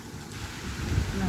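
Strong wind buffets the microphone at sea, giving a steady loud roar with low rumbling gusts, and a voice is faintly heard beneath.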